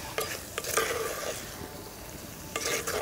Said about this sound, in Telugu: పచ్చిమిర్చి వేసి 1 నిమిషం పాటు వేయించుకుందాం.